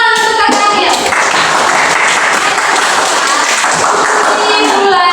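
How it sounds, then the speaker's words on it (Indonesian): A classroom audience at a sixth-grade microteaching science lesson claps loudly and continuously for a student's presentation, with some voices mixed into the dense burst of applause. "Oke, tepuk tangan untuk kakak Angel."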